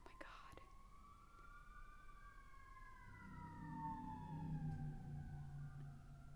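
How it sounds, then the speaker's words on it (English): Fire engine sirens wail outside an apartment window, their rising and falling tones fairly distant and muffled, joined partway through by a low engine rumble as a truck passes close by. "Do you hear those sirens? It's been nonstop right in front of my window."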